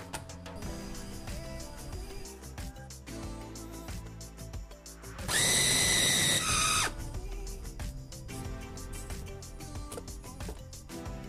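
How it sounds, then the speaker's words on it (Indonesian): An electric food chopper runs in one short whirring burst of about a second and a half, mixing beef meatball dough with egg white, garlic and seasoning, with background music playing before and after. "Nyalakan lagi choppernya. Ini cukup sampai tercampur rata."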